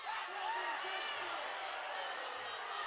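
A high school girls' varsity basketball crowd in a gym reacts to a hard foul, a dense steady murmur of many voices filling the room without clear peaks.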